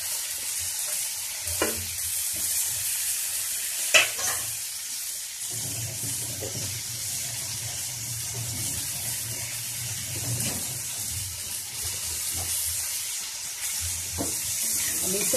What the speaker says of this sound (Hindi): इसे मैं सारे मसाले को इसमें भूनूंगी और मटर को भी साथ में